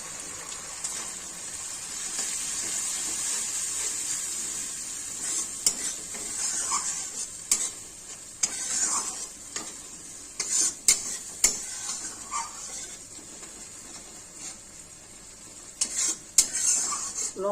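Spice paste with turmeric and a little water frying in a pan, with a steady soft sizzle under repeated scraping stirs and occasional clinks of a spoon against the pan, close and without talk.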